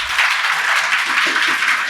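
Students in a physics lecture clap together, a dense, steady wash of applause lasting a couple of seconds without pause.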